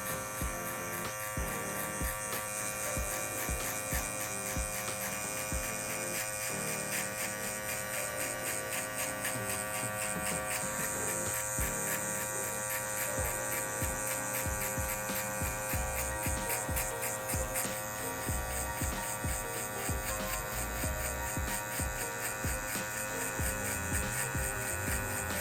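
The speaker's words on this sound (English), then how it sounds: "We're gonna grab our Stylecraft Saber clipper." Stylecraft Saber hair clipper buzzing steadily while cutting hair for a drop fade, a continuous bright electric hum with rapid rasping bursts as the blade passes through hair, close and fairly quiet.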